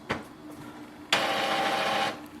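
An Epson XP5200 inkjet printer running a printhead cleaning cycle gives a short mechanical click, then a sustained whirring buzz of the pump and carriage for about a second before stopping.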